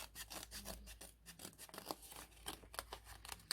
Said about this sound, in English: I'm going to get some scissors and I'm going to cut some leaf shapes